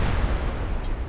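Cannon fire and battle noise in the video game Medieval Total War 2, a dense, continuous low rumble of booms and crackle with no clear individual shots standing out.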